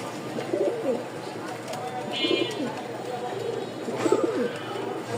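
A male pigeon's coos rise in a few soft, throaty bursts, with a voice talking over them in the background.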